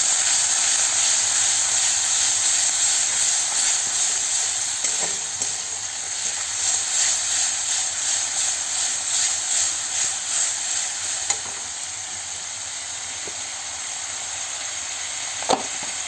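Grated tomato paste sizzles in a hot pan, giving a loud, steady, close hiss throughout with a few faint scraping stirs and a sharp tap near the end.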